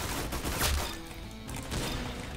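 Rapid gunfire from a first-person shooter in Roblox Arsenal, a loud dense burst of game shots with crashing impacts packed into a couple of seconds, heard without talk over it.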